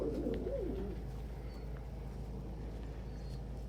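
Pet birds in an indoor flock give a low cooing call near the start, then fall quiet over a steady low background hum.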